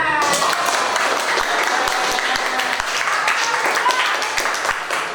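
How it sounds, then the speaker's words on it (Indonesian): A classroom crowd claps steadily for several seconds, a dense patter of many hands, with some voices mixed in. "Oke, tepuk tangan."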